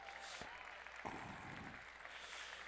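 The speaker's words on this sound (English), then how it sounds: "So big round of applause for all of the FIRST sponsors" Applause from the audience at a FIRST robotics regional event in Greater Pittsburgh, given for the event sponsors. It sounds as a steady, distant wash of clapping across a large hall, fairly faint, with no talk over it.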